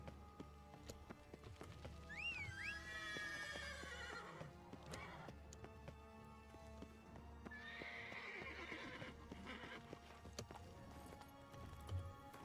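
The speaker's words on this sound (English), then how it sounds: "I believe this was the point where I got to summon Roach, so let's call him back up" Roach, the horse in The Witcher III: Blood & Wine, is summoned in game: two loud neighs and whinnies rise over steady hoof clip-clops, with faint rain-like patter beneath and no talking.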